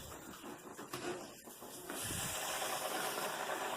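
Chicken fried steak dropped into a pan of hot oil, a steady broadband sizzle that swells and stays loud after the pieces go in, close up with no talk.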